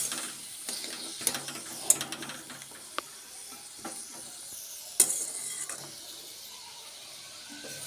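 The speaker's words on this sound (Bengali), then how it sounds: "তো এখন আমি ভালোভাবে নাড়াচাড়া করে নেব" Tomato chutney with dates and green chilli is stirred in a hot pan, with a steady low sizzle under scraping and clicking spoon strokes and a few sharp taps.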